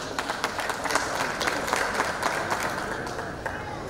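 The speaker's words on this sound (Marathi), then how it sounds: "एकदा जोरदार टाळ्या अनिल सरांसाठी वाजल्या पाहिजेत" An audience at a film teaser event gives dense, continuous applause with many hands clapping together, loud and sustained, with some crowd noise underneath.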